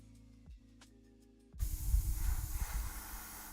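Aerosol spray paint hisses onto a Warhammer 40k knight miniature, a loud, close, steady rush starting partway through after a quiet opening with a soft bump.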